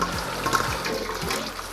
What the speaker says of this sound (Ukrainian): Я прямо сюди наливаю гарячу воду.